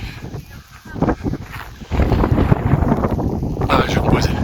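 Strong wind on Mont Canigou buffets the microphone in loud, irregular gusts that roar and rumble, building into a sustained blast after a brief lull.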